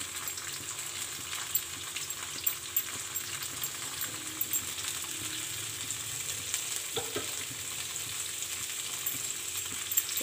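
Paneer frying lightly in a pan, a soft, steady sizzle and crackle heard close and fairly quiet, with faint stirring noises and no talk.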